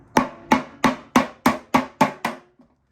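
Tin snips cut a 100x50 metal downpipe in eight sharp, evenly spaced snaps about a third of a second apart, each a crisp metallic crunch that decays quickly, followed by a faint final click.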